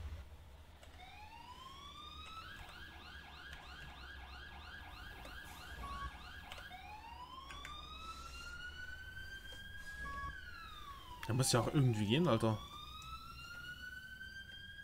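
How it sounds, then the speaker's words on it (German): Wailing emergency vehicle siren in the EmergeNYC fire department game, rising and falling sweeps shifting into rapid yelp patterns and a loud burst of air-horn-like blasts, heard fairly faintly with someone talking over it. "wie mache ich die Sirene wieder aus?"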